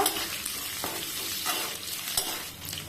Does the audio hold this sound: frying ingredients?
yes